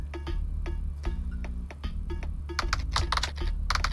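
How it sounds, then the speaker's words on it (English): Rapid clicking of a computer keyboard being typed on while playing the game KinitoPET, a steady stream of keystrokes over a low background hum. "I'm going to start typing a name"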